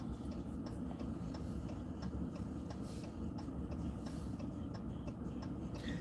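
A Pittsburgh T light rail train rumbles past, its wheels clicking in an even rhythm over the track joints above a steady low roar. It sounds moderately distant and carries no talk.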